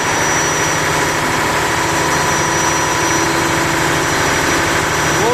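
A ship's diesel generator runs at idle in the engine room, a loud, steady, close throbbing drone with a fast low pulse and constant mechanical hum.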